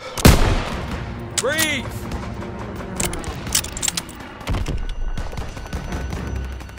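Battle gunfire in Call of Duty WW2, with a sharp loud shot at the start followed by scattered bursts and rattling fire over a busy war soundscape, while a voice shouts briefly over it.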